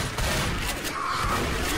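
Rapid gunfire from the zombie shooter Left 4 Dead, a dense continuous burst of shots filling the whole moment with loud crackling noise, no clear talk over it.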